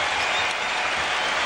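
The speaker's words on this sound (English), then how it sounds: "Michael Jordan comes out of the game and gets a standing ovation from the crowd here in Orlando" A basketball arena crowd in Orlando gives a sustained standing ovation at a 2002 Wizards vs Magic NBA game, a dense steady roar of applause filling the space.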